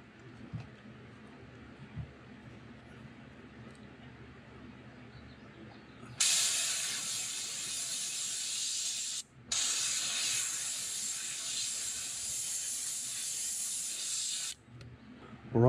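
An airbrush sprays black paint onto a pumpkinseed fishing lure around the gill plate, a close, steady hiss in two long bursts with a brief break, following a quieter stretch of faint handling noise.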